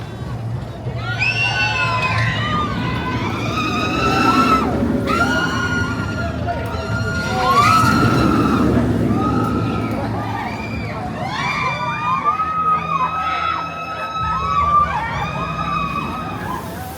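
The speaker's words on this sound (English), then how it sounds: "there's a lot of crowds here today" A busy crowd fills Walibi Rhône-Alpes theme park on a summer day, a loud steady murmur of many voices and shrieks with rising and falling wails overhead.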